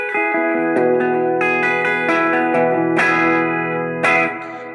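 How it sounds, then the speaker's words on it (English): Electric guitar noodling around a high E bar chord, ringing sustained notes with effects and reverb, a few picked changes and chord restrikes, played alone and close. "just noodle around there on the E, on the high E bar chord."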